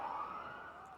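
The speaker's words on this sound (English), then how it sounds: "First the fumble, and now the siren." A siren wails at a cricket match, a steady tone heard faint and distant for about a second, with no talk over it.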